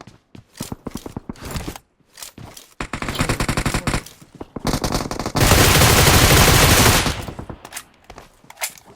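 Gunfire in PUBG Mobile: loud rapid bursts of automatic fire in rattling volleys, a dense sustained stretch midway, with footsteps between bursts.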